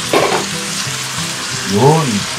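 Food sizzles in a small amount of cooking oil in a home kitchen pan, a steady crackling hiss with brief voice-like sounds rising over it.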